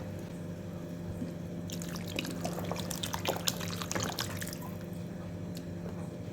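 Water pours and splashes into a pot of Sankara fish curry (meen kuzhambu) for a few seconds, fairly quiet, against a faint background hum.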